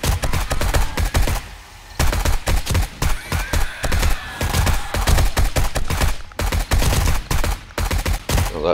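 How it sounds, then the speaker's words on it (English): Assault rifle fire in 7 Days to Die: loud, close bursts of rapid automatic shots in repeated strings separated by brief gaps, continuing throughout. "let's go at it with the assault rifle"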